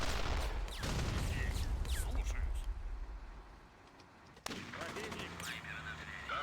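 Rapid video-game gunfire from MWM 2.0 fills the opening seconds, loud bursts and rattling shots that thin out into quieter scattered fire and a distant boom, with a player talking over the action.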